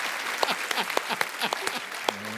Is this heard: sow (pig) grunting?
no